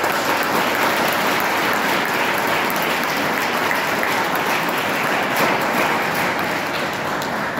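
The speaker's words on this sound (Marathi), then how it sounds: "तुम्ही खूप मोठ्या टाळ्या वाजवून त्यांना दाद दिली पाहिजे" A large audience bursts into big, sustained applause at an NSS winter camp inauguration ceremony in Shingve village, a dense, steady wash of clapping that fills the whole stretch without pause.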